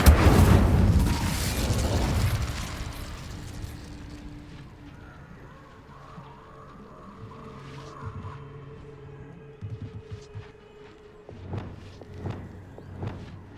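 An Incendio fire spell in the video game Hogwarts Legacy erupts in a loud, heavy burst that rumbles and fades over several seconds, followed by quieter scattered thumps and crackles.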